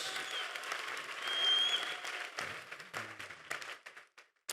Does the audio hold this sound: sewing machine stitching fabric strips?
no